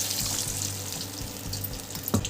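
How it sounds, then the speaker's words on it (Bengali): Water is poured into a rinsed spice bowl, producing a soft continuous trickle and splash close by with a small knock near the end, no talk. "মশলার বোলটা ধুয়ে একটু জল দেব, একটু জল দিয়ে দিচ্ছি।"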